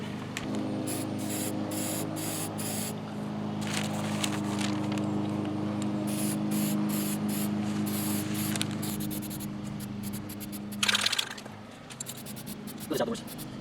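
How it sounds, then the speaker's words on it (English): A can of black spray paint hisses in a long continuous spray, with a few short bursts near the end and a voice talking faintly over it. "Spray paint the black."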